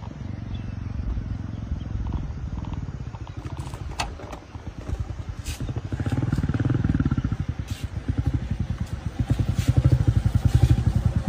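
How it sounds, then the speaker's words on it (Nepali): Motorbike engine approaching on a road, a rough rhythmic rumble that grows louder and closer toward the end, with some clatter and no speech. "एउटा बाइक आउँदै गरेको देखेँ"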